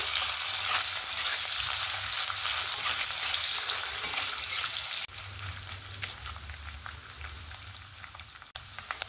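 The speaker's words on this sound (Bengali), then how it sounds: "এখানে আমার নারকেলগুলো সুন্দর লাল লাল করে ভেজে নিয়েছি।" Thin coconut slices frying in hot oil until reddish, a loud crackling sizzle that drops in level partway through and continues more softly with scattered pops and spatula clicks.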